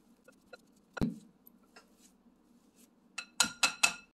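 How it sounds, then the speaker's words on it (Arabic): Chicken kofta mixture being stirred and mashed with spices in a bowl: a sharp utensil knock, scattered faint scrapes, then three quick loud clinking, scraping strokes close up near the end, with no talking. "نقلب ونبتدي نهرس كله مع بعضه"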